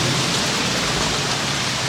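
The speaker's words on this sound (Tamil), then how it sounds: "பூரா நிற்காது மழை" Heavy rain falls in a dense, continuous hiss with no break, loud and close, alone without voices.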